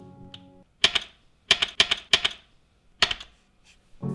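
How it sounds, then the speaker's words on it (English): Motorcycle gear lever with the engine switched off, clicked between first and second into neutral: several sharp hollow mechanical clicks, some in quick pairs, close and clear against near silence. "the hollow sound that the gear lever orchestrates as the groove between first and second is found to engage neutral"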